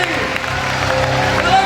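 A church congregation at a youth Christmas revival service claps hands loudly together, a steady broadband patter sustained throughout, with music and crowd noise underneath.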